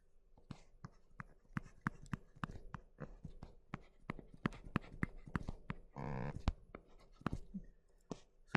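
A pen drawing a circuit diagram, heard as a quick series of sharp taps and scratchy strokes with a short rubbing burst partway through, close and fairly quiet, with no voices.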